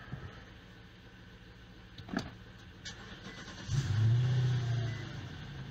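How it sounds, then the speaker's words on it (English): A click and brief crank, then an Infiniti M56S or M37S engine catches and revs up loudly before settling into a steady idle hum. "Start the car."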